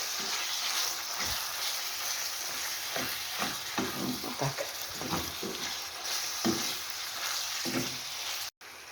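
Minced meat sizzles steadily in a hot pan for a pasta bake while a spoon scrapes and stirs it in irregular taps, close up and fairly quiet.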